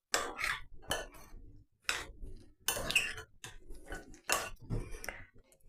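Apples being mixed with cinnamon in a bowl for an air fryer apple strudel, several distinct clattering scrapes of a utensil against the bowl in irregular bursts, close and fairly loud, with no talk.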